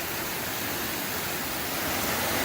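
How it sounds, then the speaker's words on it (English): A waterfall on the Little Missouri River gives a loud, steady broadband rush of falling water, constant throughout with no voices. "Little Missouri River and the waterfalls"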